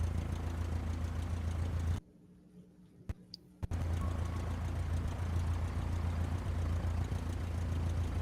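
A steady, loud engine drone from an aircraft in the video game DOOM 2016 runs throughout, cutting out for under two seconds midway before resuming at the same level.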